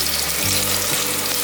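Celery and ginger slices stir-fried in oil in a pan for a vegan dish, giving a steady, close, moderately loud sizzle that runs unbroken with no voices.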